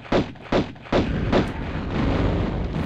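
Four heavy booming blasts from Tomb Raider land in quick succession, each a sharp loud thump, followed by a lingering rumbling roar.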